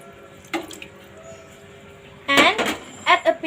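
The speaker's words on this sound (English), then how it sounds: "Add water." Water poured from a tap into a cooking pot for boiling tofu, with a few short splashing bursts and a louder pouring stretch near the end, close and alone.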